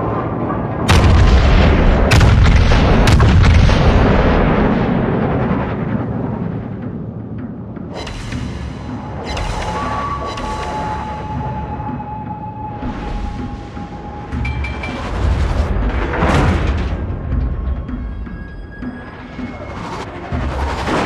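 Naval gunfire in World of Warships from the Izumo battleship: heavy, close booms crowd the first few seconds, then a steady rumble of distant shots and explosions continues throughout.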